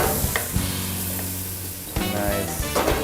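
Onion sizzling in a hot pan alongside blue crab, a steady loud frying hiss with a few stir clatters, close up, no talk over it.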